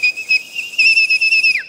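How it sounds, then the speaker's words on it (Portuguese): A shrill whistle, used as a feeding signal for a dog, sounds as a series of short, loud, piercing blasts in quick succession, close and alone with no talking, the last one sliding downward in pitch. "Não é isso não, é apito assim, ó."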